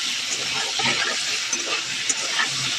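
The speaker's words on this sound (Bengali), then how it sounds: "সেই গরম তেলের মধ্যে দিয়ে মাছগুলো ভেজে তুলে নিতে হবে।" Fish pieces fry in hot oil, sounding as a close, busy sizzle and crackle with faint clinks of handling.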